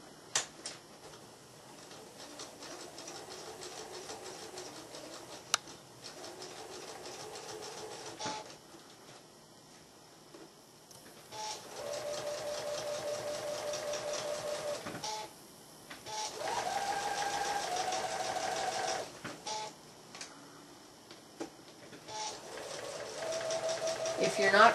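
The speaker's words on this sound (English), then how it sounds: "I'm going to take it to the machine and I'm going to just sew along the very edge" A sewing machine stitches along the edge of a fabric barrel bag in several bursts of steady, rapid whirring, pausing between runs, fairly quiet and close, with a person talking in between.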